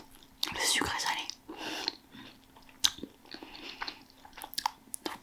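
Someone eating a warm vegetarian croque-monsieur up close, with soft bites, crunching and chewing sounds mixed with quiet whispered talk.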